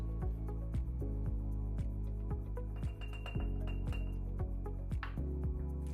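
Glass jar clinking and knocking while oil, garlic paste and salt go in for a warm salad dressing, a string of close, crisp taps and rattles with no talking.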